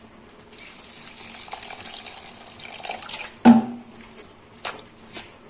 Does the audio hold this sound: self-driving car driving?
no